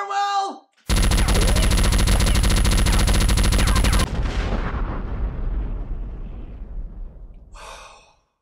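Sustained heavy gunfire in the Top Gun: Combat Zones flight video game, a loud unbroken roar of rapid shots for about three seconds that then fades into a decaying rumble, with brief voice sounds before and after.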